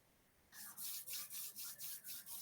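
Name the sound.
rubbing hands together slowly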